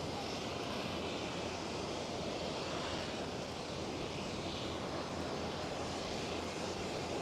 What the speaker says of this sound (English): Well, Pegasus, Neo taking off. Or is the A321?